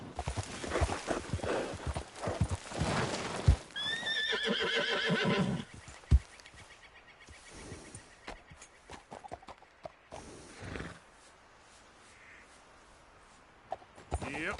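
A horse in the game Red Dead Redemption 2 whinnies loudly once, with hooves clip-clopping at a walk and then a trot around it; a voice speaks briefly among quieter footfalls.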